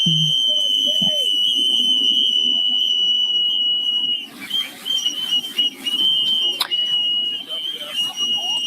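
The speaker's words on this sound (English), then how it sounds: "You can hear the whistles." Whistles blown by a crowd at a protest keep up a loud, continuous, shrill tone with a few overlapping blasts, while voices murmur underneath.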